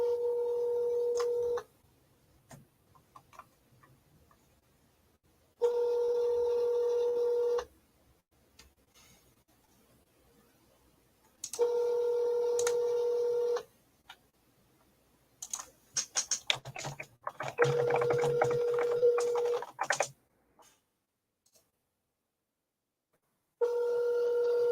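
A phone call rings out with a repeating tone, loud steady bursts of about two seconds each separated by silence of several seconds, plus a stretch of faint clicking and tapping like dialing or typing between rings.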